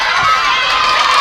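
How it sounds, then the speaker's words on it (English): Crowd noise at a women's Super Cup football match between Red Scorpions and Berewuleng FC, a loud, steady roar of cheering and shouting voices throughout the short moment. "The crowd went wild,"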